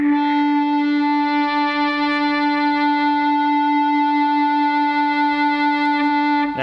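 Electric guitar played with an EBow near the neck pickup, a single smooth, endlessly sustained note with a rich stack of steady harmonics, loud and close, holding without attack or decay for several seconds.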